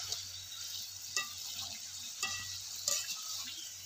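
Singara sizzles in hot oil in a steady, bright hiss, with occasional stirring clinks and scrapes from a utensil close by.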